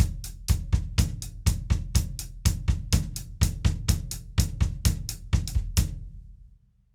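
A drum kit repeats a tight ostinato beat in a drum lesson, with sharp kick and snare hits falling in an even, driving pattern of paired strokes. It plays loud and close, then stops abruptly, leaving a short decaying ring.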